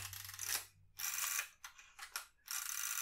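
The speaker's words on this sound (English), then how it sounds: "The advance is nice and solid, and it's very smooth." Film advance lever on a Fuji GW690III medium-format rangefinder camera, wound in several quick ratcheting strokes with short pauses between, close and fairly quiet.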